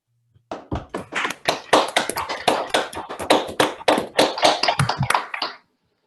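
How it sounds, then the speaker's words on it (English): Online audience applauding over a video call after an academic talk, a dense patter of many overlapping hand claps that starts abruptly, holds steady for about five seconds, then stops cleanly. "everybody could please unmute themselves and applaud"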